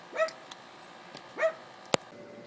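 Dogs barking indoors at home, two separate rising barks or yips about a second apart, moderately near, followed by a sharp short click.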